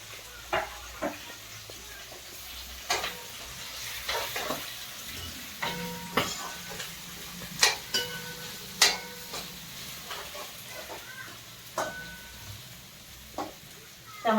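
Chillies and peas roast in a pan, a soft continuous sizzle broken by irregular scraping and clinking stirs against the metal, with quiet voices in the background.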